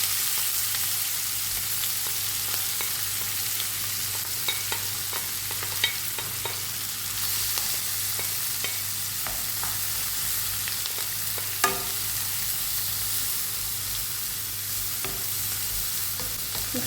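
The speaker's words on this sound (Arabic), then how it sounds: "دوكا في المقله اللي قلينا فيها الدجاج نحطوا البصل تاعنا" Onions frying in a pan still holding oil from fried chicken give a steady, close sizzle and crackle, with occasional scrapes and clinks of stirring through an otherwise continuous hiss.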